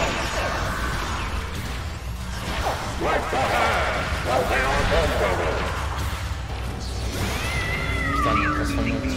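Cat meows in the Star Trek Online Halloween event, several rising meows and a caterwaul cutting through game noise with whooshes and crashes, while people talk over it.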